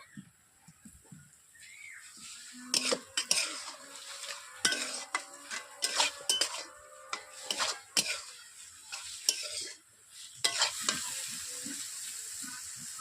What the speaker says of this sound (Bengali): দেখতেই পাচ্ছেন এইভাবে আমি নেড়ে নেড়ে চচ্চড়ি রান্না করা আমার কমপ্লিট হয়ে আসছে।